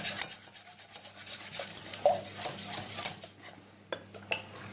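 Milk, half a litre, is mixed into a cheese quiche mixture in a bowl, making light scraping and clinking of a utensil against the dish in irregular strokes, close but fairly quiet, with no talking.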